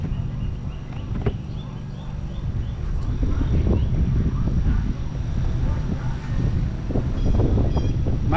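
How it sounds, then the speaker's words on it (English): Strong wind blowing outdoors in a garden with growing okra plants, a loud steady rumble buffeting the microphone throughout, with a few faint knocks and brief speech under it. "It's pretty windy out here."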